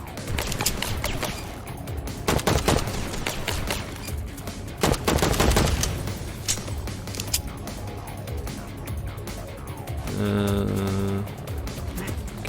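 Turrets firing in the FPS game AI Olympius, rapid bursts of gunfire in clustered volleys with loud peaks early on, followed by quieter game sounds and a tonal hum near the end.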